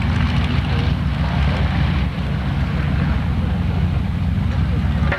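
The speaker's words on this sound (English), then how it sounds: "Here's the silver job going right by with a big spinner on a T6." A silver T6 trainer with a big spinner passes at the 1993 Muirkirk airshow, its steady, loud, broadband engine roar with wind buffeting holding for several seconds without fading.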